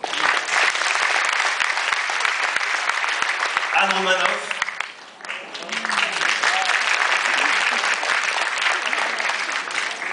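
An audience at a stage show breaks into sustained, dense applause that fills the whole stretch, briefly thinning midway while a host's voice speaks over it before the clapping swells again.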